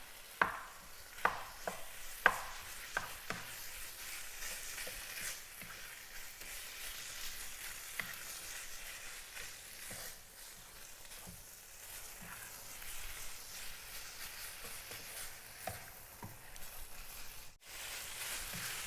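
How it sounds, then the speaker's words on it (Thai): Pork stir-fried with curry paste in a pan, a run of scraping, tapping spatula strokes over a soft continuous sizzle, close and moderately quiet, with no talk. "เอาหมูลงมาผัดกับพริกแกงเลยนะคะ"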